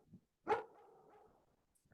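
A single sharp dog bark, close and fairly loud, fading out with a short tail, with faint sounds before and after in an otherwise quiet room.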